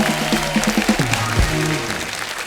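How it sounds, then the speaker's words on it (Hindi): A studio audience at a comedy show gives a short burst of clapping that swells and then fades, over a brief musical sting with a low sliding tone. "जोरदार तालियां हो जाए।"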